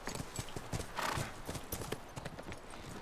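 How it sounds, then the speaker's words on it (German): Horses gallop toward players in the video game The Last of Us, a rapid clip-clop of hooves with a brief snort, fairly close under game ambience. "Die Pferde kommen zu uns, Mann."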